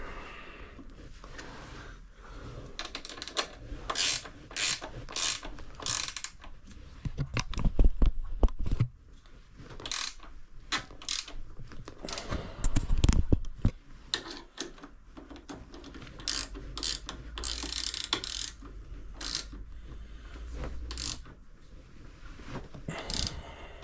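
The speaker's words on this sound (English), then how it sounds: "Just gotta tighten up these shocks again, because I loosened them when I took the swing arm out." Ratchet clicking in quick bursts as motorcycle shock bolts are tightened, close and fairly quiet, with brief pauses between runs of rapid pawl clicks.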